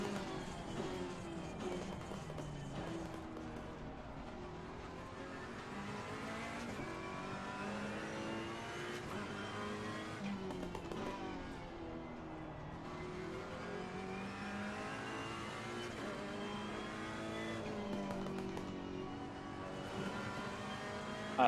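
A race car in the Assetto Corsa Competizione sim drives steadily with a constant engine drone that rises and falls through gear changes and revs, loud and continuous with no voices.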